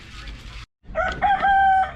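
A Rhode Island Red rooster crows once, close and loud, from a chicken pen, its long call following a short burst of clucking and coop noise.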